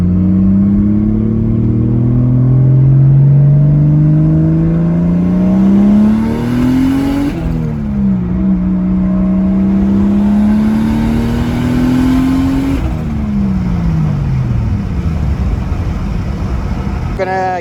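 A turbocharged Mercedes M104 engine pulls hard through two long gears while merging onto a highway, its loud drone climbing steadily in pitch, dropping at each shift, then winding up again.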